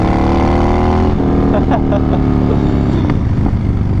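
Harley-Davidson Dyna Street Bob motorcycle with a twin cam 103 engine running loud and steady, its low exhaust rumble rising and dropping through gear changes while a voice talks over it.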